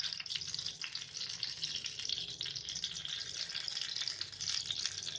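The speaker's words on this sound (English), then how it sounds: "you can see that the oil has started to boil a little bit. I'm going to put in my flowers" Flowers frying in boiling oil, a dense continuous crackling sizzle with fine bubbling, steady and fairly close, with no talking.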